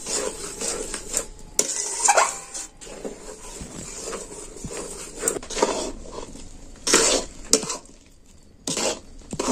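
Rice flour dough being stirred in hot milk in a pan: irregular scraping, rubbing and clinking of a utensil against the pan, with bursts of vigorous stirring and short pauses, close and fairly loud, with no talk.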